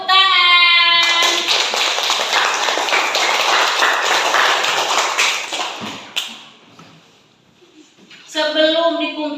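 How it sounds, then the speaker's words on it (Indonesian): Classmates clap for a pupil in a classroom: a burst of many hands applauding for about five seconds, with a teacher's voice speaking just before and after. "Tepuk tangan buat Akila"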